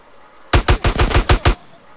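Gunfire in GTA San Andreas: a rapid burst of seven loud, sharp shots in quick even succession, standing alone against quiet game background.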